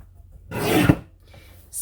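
A Fiskars guillotine paper trimmer slices once through a sheet of 8.5 by 11 paper, giving a single short, close scraping rasp of the blade.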